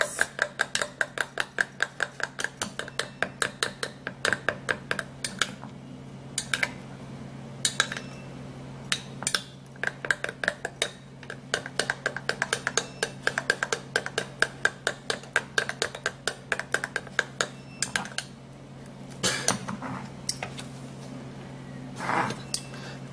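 A whisk or spoon beats an egg white remedy in a bowl, making a fast, steady run of clinking taps against the sides with a few short pauses, loud and close, and no talking.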